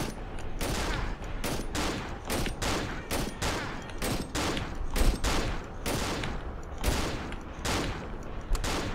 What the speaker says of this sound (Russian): Видишь, как этот дебил стреляет?